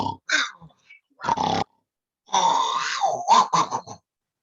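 A person imitates a monkey's growl as a throat-opening yoga breathing exercise, making rough grunting, growling bursts. The voice sounds close, with short gaps between the first few growls and then a longer, sustained run.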